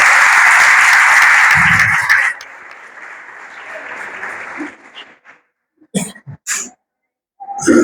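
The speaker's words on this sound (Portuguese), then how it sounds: "Palmas para Jesus" A church congregation claps loudly in a dense burst of applause for about two seconds, then it abruptly fades to scattered noise, brief silence and a few short isolated sounds near the end.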